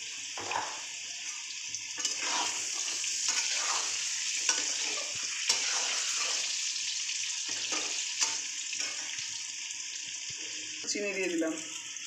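Boiled potatoes seasoned with salt and turmeric fry in a pan, giving a continuous close sizzle with stirring clatter throughout and a brief voice near the end.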